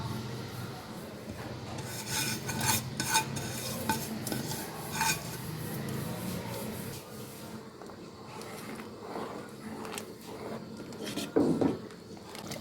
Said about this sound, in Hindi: अब हम यहाँ पे सेवइयाँ जो रोस्ट करके रखी थी उसको ऐड कर देंगे।